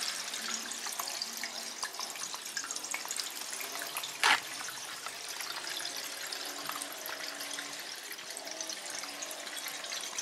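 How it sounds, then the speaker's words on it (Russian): Steady rushing water fills the whole stretch, a continuous broadband flow of water running through a household pipe, with one brief louder burst midway. "Вода текет по трубе."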